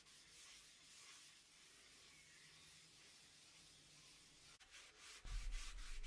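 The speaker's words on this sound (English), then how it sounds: "Once the wax had cured, I could buff off the excess with a cloth." Cloth buffing cured furniture wax off a wooden side table, a steady close rubbing swish running continuously, with a louder bump and handling noise near the end.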